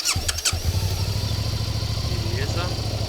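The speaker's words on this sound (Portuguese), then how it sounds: "já vamos ouvir um pouco o ronco original dessa moto. Vou iniciar." A Suzuki 8S motorcycle engine with stock exhaust cranks and catches, then settles into a low, steady rumble close by, with a short burst of talk at the start.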